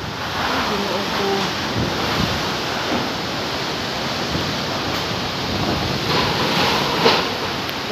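Strong wind and rain roar during a flood, a loud continuous broadband rush with gusty swells that fill the whole scene and leave no clear pauses.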